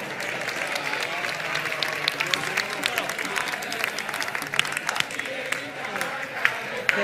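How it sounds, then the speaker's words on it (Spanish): Carnival audience applause at a choir contest final in Córdoba, scattered clapping with sharp individual claps heard under ongoing talk. "Un aplauso y seguimos con el concurso."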